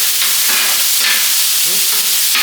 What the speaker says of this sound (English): The pepper's kind of cooking on the griddle.